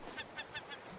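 A bird in the survival game Raft gives a short series of honking, goose-like calls, about four evenly spaced cries over steady game background noise.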